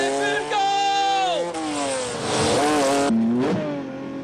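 A stolen car in a 1978 French comedy is pushed hard toward the motorway, its engine revving up and down in long, loud sweeps that hold steady and continuous throughout.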